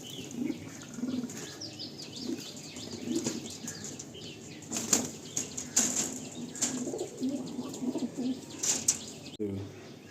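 A pair of Andhra Behala pigeons coo softly nearby while wings flap in several sharp bursts, with faint chirps in the background.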